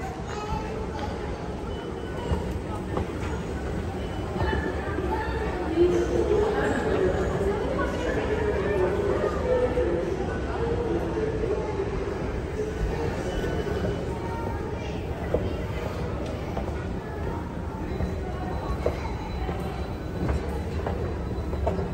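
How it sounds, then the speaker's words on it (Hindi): A Doha metro train pulls into the station, a steady low rumble and rolling hum holding for the whole stretch with a brief swell midway, while people talk and chatter nearby. "इधर आई मेट्रो, इधर आई,"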